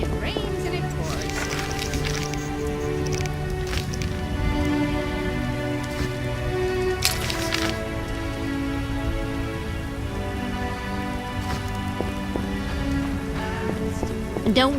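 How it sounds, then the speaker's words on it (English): Steady, pouring rain in The Witcher 1 video game, an even, continuous hiss of drops on surfaces that holds at the same level throughout, with tonal music and faint voices layered over it. "It rains and it pours."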